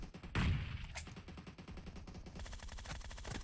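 Rapid automatic gunfire in the mobile battle royale game PUBG Mobile, a dense rattling burst of shots with a loud blast near the start, then continuing quick staccato rounds at moderate volume.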